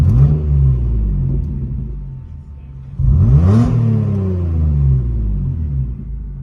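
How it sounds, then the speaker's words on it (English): A car engine revved twice, each rev rising sharply and then winding slowly back down, loud and close, with no talk over it. "when I rev the engine"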